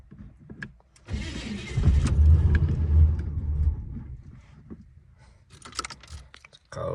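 An old car nicknamed Bessie cold-starting in cold weather: a starter grinds briefly, then the engine catches and runs loud and rough for a few seconds before settling into a lower idle, with clicks and shuffling afterward.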